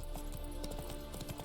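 Hooves of Roach, the horse in The Witcher 3: Wild Hunt, clip-clop in a quick, steady rhythm, close and moderately loud over a dense bed of ambient game sound.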